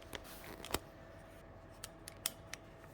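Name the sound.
scissors cutting paper flowers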